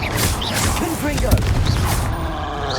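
Confringo spell blasts crackle in the video game Hogwarts Legacy, several quick explosive bursts and pops in a chaotic fusillade, with a stronger hit near the middle and a constant rumble of battle noise beneath.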